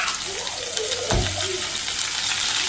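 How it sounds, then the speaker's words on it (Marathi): Chopped onion frying in a hot pan, a dense, steady sizzle like rushing water, close and continuous, with one brief low thump partway through. "हे बघ, आपल्याला कांदा टाकायचा आहे."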